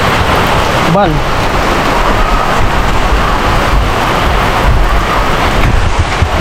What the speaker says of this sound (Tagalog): Ayan, malakas na po yung ulan